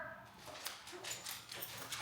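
A dog in a home kitchen whimpering and yipping faintly in short repeated bursts, quiet and somewhat distant with a hissy background and no talk.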